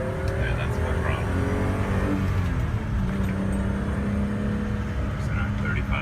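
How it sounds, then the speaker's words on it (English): A BMW 325is engine revs hard at full throttle, a loud sustained roar that climbs in pitch as it accelerates, heard from close up with a voice speaking over it. "Revs beautifully. And that's not full throttle. Yeah, that's full throttle."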